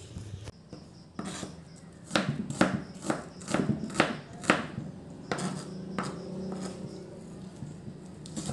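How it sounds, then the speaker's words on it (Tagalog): Knife chopping an onion finely on a board for sarciadong isda, a run of quick, close cutting taps in bursts, with slower scattered knocks toward the end. "hihiwain natin ang ating sibuyas ng paliit lang"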